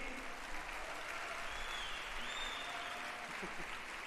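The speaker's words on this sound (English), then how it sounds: "Can we have a huge round of applause for the Ola Electric team?" An audience at a corporate event applauds the Ola Electric team: a steady, even wash of many hands clapping, fairly distant and soft, with faint voices underneath.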